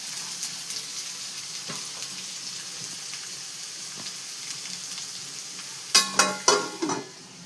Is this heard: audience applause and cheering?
no